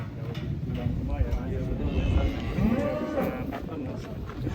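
Cattle being loaded onto a truck at a farm, with a low moo and shuffling, hoof-like thumps close by, under steady chatter from people nearby.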